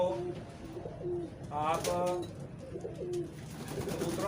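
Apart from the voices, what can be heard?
pigeons cooing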